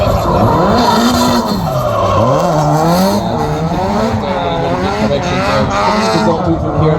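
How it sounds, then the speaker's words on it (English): A drift car with an SR20 engine at a Bishopscourt drifting event howls loudly as the throttle is flicked and it swings around, tires squealing and engine pitch rising and falling in sweeping waves with a voice talking underneath. "flicks the throttle there now, gets the car turned around, gets the SR20 spooled up"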